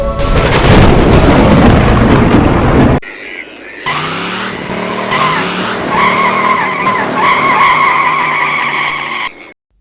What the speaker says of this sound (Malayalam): ഒരു വണ്ടി ഇടിച്ചിട്ട് പോയതാ.